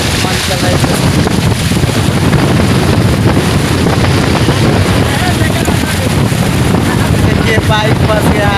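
Floodwater rushing across a road washed out by a river flood in Jharkhand or Bihar, a loud, steady broadband roar of churning water with wind buffeting the microphone throughout.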